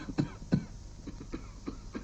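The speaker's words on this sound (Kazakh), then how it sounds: "мына жөтеліңнің түрі жаман екен" A person coughs in a series of harsh bursts: two strong coughs close together, then several weaker, shorter ones at a fairly even pace, heard up close in a quiet room with no talking.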